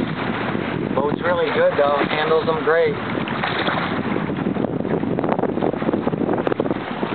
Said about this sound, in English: it's starting to get a little too windy out here.